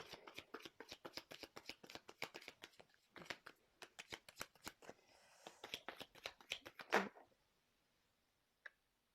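Tarot cards being shuffled by hand in a rapid run of crisp riffling flicks, close and fairly quiet, ending with a louder snap as cards spill, then near silence with one faint tap.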